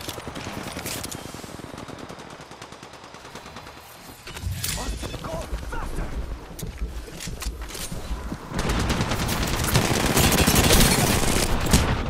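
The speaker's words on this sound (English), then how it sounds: "Why is somebody shooting me in my back?" Video game gunfire, shots coming from behind the player: bursts of rapid machine-gun-like fire, quieter at first, then louder and sustained toward the end, with talking mixed in.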